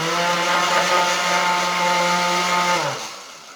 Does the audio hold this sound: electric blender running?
yes